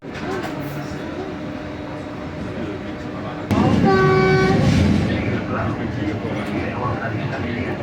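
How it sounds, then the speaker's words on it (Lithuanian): A train pulls into a station near Barcelona, with a rumbling approach, a sharp horn blast midway and a sustained loud rolling roar, while a voice talks over it. "Traukiniais atvyks už 1 minutės"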